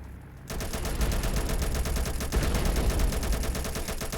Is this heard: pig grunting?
no